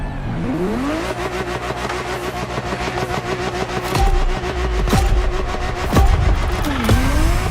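A Ferrari 365 GTB4 Daytona revs hard in The Crew Motorfest, its engine climbing steadily in pitch and then swinging through repeated blips and gear changes, loud and close, with no talk over it.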